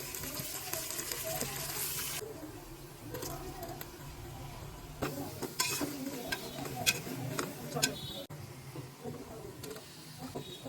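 Coriander and mint go into biryani masala already frying with tomatoes, giving a moderate sizzle with uneven scraping and clattering of a spoon stirring, busier and louder in the second half.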